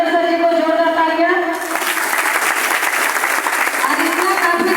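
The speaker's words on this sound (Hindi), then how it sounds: "जोरदार तालियां" Hearty applause from the audience at a meeting, bursting in after a speaker's voice and continuing as dense, even clapping to the end.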